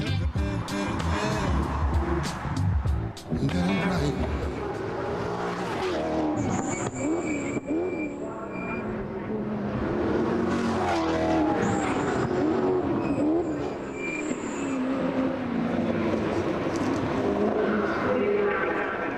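Sports cars race on a track, their engines roaring loudly and steadily throughout, with the note rising and falling as they accelerate and shift.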